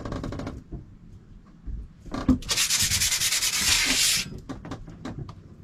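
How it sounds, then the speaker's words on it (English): Sandpaper rubbing on a part held in a bathroom sink, a loud rasping scrub lasting a second and a half, preceded and followed by softer intermittent scraping strokes, close up with no talk. "You guys don't sand stuff in your bathroom sink?"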